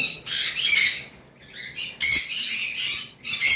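A flock of green-cheeked conures at a bird farm screech in loud, raspy bursts, several birds calling over one another up close, with brief dips between volleys and no one speaking.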